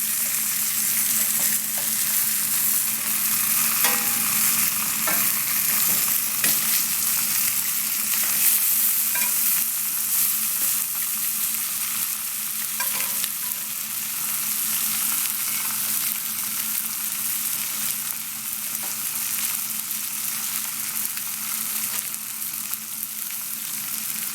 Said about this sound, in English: I'm going to return these to the pan to give it a flambe.